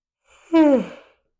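A single long yawn, close by, with a voiced tone that swells and then slides downward before trailing off into a breathy exhale.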